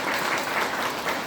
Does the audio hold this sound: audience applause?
yes